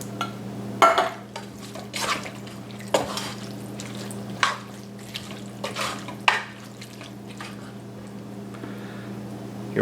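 Venison chili is stirred in a pot, a utensil scraping and knocking against the metal in irregular bursts over a steady low hum, close by and moderately loud, with no talking.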